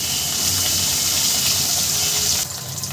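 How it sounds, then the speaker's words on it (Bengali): Fish pieces fry in a pan of hot oil, giving a continuous, dense sizzling hiss that drops to a quieter crackle near the end. "মাছও আমি সুন্দর করে ভেজে নেব"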